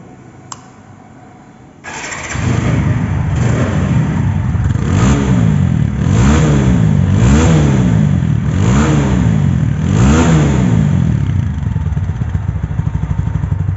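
A 2024 motorcycle in showroom condition starts up and idles loudly nearby, then revs in about five evenly spaced rising and falling surges before settling back to a steady idle.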